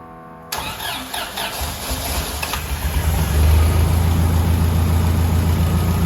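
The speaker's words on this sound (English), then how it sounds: "Ben, go ahead and toke the ignition, and let's see what happens" An International Harvester Scout engine with an aluminum intake cranks for a couple of seconds, then catches and settles into a steady, rumbling idle close by.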